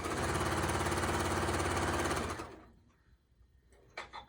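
A sewing machine stitches a kitchen hand towel in a steady, rapid mechanical whir that runs loud for about two seconds, then stops abruptly, leaving faint handling noises and a soft tap.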